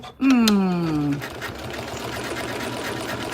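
A sewing machine running up to speed, its motor whine gliding down in pitch before settling into a steady mechanical whir of stitching, close and fairly loud.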